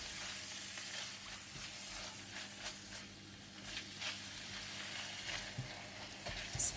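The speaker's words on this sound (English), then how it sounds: "Stir for 1 minute until the minced pork has changed color and it's no longer red." Minced pork stir-fried with soy sauce and oyster sauce in a pan, a quiet sizzle broken by soft scraping stir strokes and light taps of the spatula.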